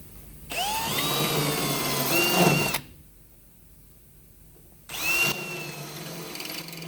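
A power drill whines loudly for about two seconds, stops, then starts again briefly near the end, with a rising pitch as a spot weld drill bit cuts through a spot weld on a 1998 240SX.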